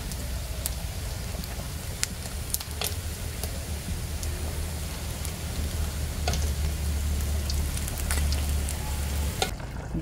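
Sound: dried fish frying in oil

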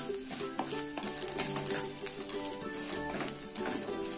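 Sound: stirring clam meat masala in a pan

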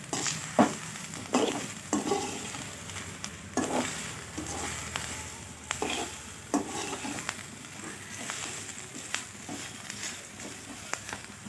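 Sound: eggplant stir-frying in oil with chili powder

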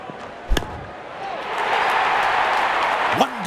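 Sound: cricket bat hitting ball for a six

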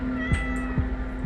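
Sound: cat meowing in the video game Dreadout 2

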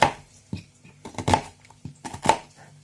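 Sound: chopping onion

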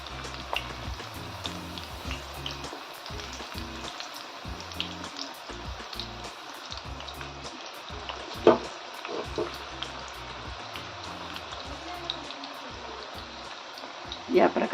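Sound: drumstick flower fritters (bhaji) frying in oil

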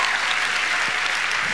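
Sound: audience applause

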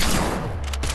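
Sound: gunfire in the video game Fortnite

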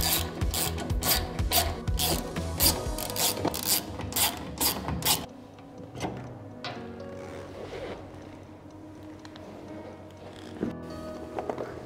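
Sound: unscrewing three screws to remove the seed shaft motor

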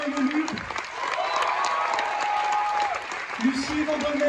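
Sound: audience applauding performers

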